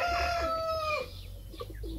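A rooster crows in a long drawn-out call, followed by softer clucking from several broiler chicks aged 16 to 30 days against a low rumbling background.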